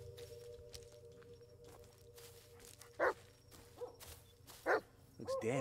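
A dog barks in the horror video game Blair Witch, with two distinct short barks plus a brief yip over a low ambient game hum and faint footsteps, at moderate distance.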